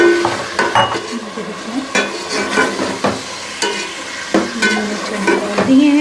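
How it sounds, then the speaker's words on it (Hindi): Chickpeas stirred and fried in a pan with salt, a spoon scraping and clattering in uneven strokes over a steady close sizzle, with no talking. "चनों को डाल के हम इसको अच्छी तरह से भूनेंगे।"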